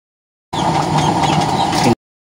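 A small 5-volt blower powered from a power bank feeds a 1/2-inch no-weld burner in a 4x4 chamber, making a steady, close whooshing hum with a roaring midrange that runs evenly for over a second and cuts off abruptly.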